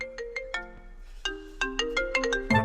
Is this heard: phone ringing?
yes